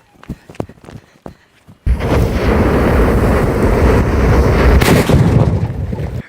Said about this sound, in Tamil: அது வந்து கீழே இருந்து வெடிச்சிச்சுன்னா அதோட இம்பாக்ட் எப்படி இருக்கும், அதோட சவுண்ட் எப்படி இருக்கும்